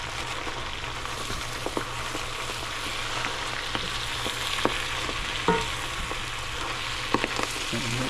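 Greens wilting in garlic butter in a pan give a soft, continuous sizzle and fry, with occasional light clicks and scrapes of stirring; quiet and close, with no talking.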